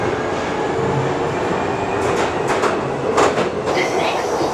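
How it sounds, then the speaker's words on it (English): A London Underground Victoria Line train bound for Brixton roars along underground with loud constant rumble, rhythmic wheel clatter and a few brief metallic squeals. "This is a Victoria Line train to Brixton."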